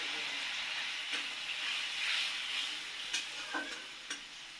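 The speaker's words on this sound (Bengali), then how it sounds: "এবার ভালোভাবে ভাজা ভাজা করে নিব।" Spices for a vegetarian aloo dum fry in a pan, a dense, steady sizzle with a few sharp knocks of the spoon while stirring, close and fairly loud.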